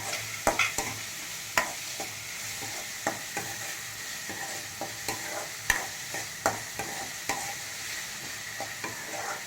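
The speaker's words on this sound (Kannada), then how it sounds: "ಇವಾಗ ಈರುಳ್ಳಿ ಸ್ವಲ್ಪ ಬಾಡಿದೆ ಒಂದು ಟೊಮೊಟೊ ಹಾಕೊತಾ ಇದ್ದೀನಿ" Onions with tomato added being stir-fried in a pan for a greens palya, a soft continuous sizzle punctuated by sharp, regular clicks and scrapes of a ladle against the pan, close up with no talking.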